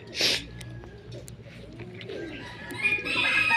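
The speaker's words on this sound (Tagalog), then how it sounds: "Ano po po mga kalapati ni Ken Ray?" Low, soft blue bar pigeon coos murmur close by amid rustling and light fluttering, with a brief sharper call at the start.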